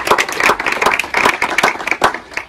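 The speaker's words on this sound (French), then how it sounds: "Jérôme Garel, qui est le directeur du département du Morbihan, on l'applaudit aussi." An indoor audience at a farming award event in Brittany, Morbihan, claps for a department director, a brisk burst of many hands heard close and fairly loud for a couple of seconds with no talk over it.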